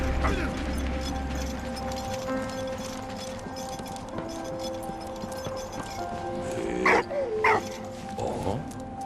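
A dog barks in the World War I video game Valiant Hearts: The Great War, with a couple of sharp yaps near the end over a bed of game music and mechanical clatter.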